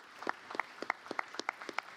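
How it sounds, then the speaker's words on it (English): Scattered, sparse hand clapping from an audience at a secondary school end-of-year concert, a few distinct claps spread through the moment, fairly faint and somewhat distant. "So please give a big round of applause to Mr. Ethan Flood."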